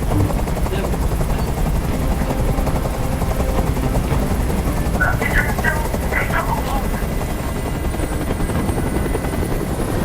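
A helicopter drones steadily with a continuous thrumming rotor noise, while voices briefly speak over it partway through.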